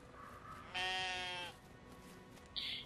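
A sheep in the video game Brothers: A Tale of Two Sons gives one clear, wavering bleat up close, followed by a shorter high sound near the end over a faint background.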